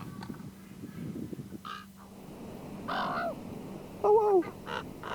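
A raven calling at Crystal Cove gives a few short, hoarse croaks and one louder warbling call near the end, set over low outdoor background rumble.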